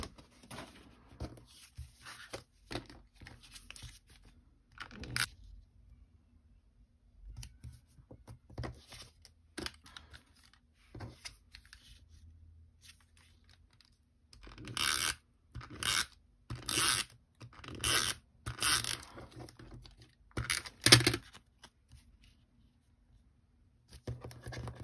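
Paper card fronts being trimmed with a paper trimmer, a run of short, quiet rasping and scraping strokes in bursts, some close together, with long near-silent pauses between.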